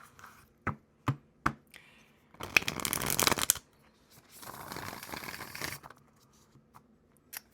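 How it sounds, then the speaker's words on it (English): A Rainbow Tarot card deck being shuffled by hand, with a few sharp card taps followed by two bursts of riffling, close and clear in a quiet room. "Let me shuffle it one more time."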